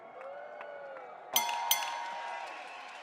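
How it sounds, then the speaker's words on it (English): A fight crowd at a REBEL FC 1 main event cheers on a hometown fighter, a steady roar of voices that swells with two sharp bursts of shouting partway through. "So the crowd urging her on here"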